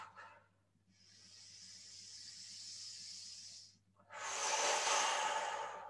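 Slow, heavy breaths during a relaxation exercise, lying on one side: a soft inhale, then a long steady airy exhale, a brief pause, and a louder, fuller exhale, close and alone over a faint low hum.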